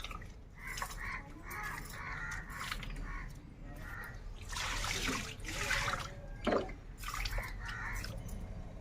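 Fish pieces are washed by hand in water, with faint splashing, dripping and sloshing in short bursts, close but quiet throughout.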